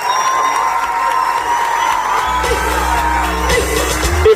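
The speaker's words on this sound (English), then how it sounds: "let's give a round of applause for our VIPs" A large crowd applauding, cheering and whooping for VIP guests at an outdoor expo, loud and continuous throughout with yells rising over the clapping.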